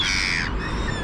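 Gulls squawk and cry in a steady, close chorus while gathering around food, the harsh calls overlapping with no pauses and no talking.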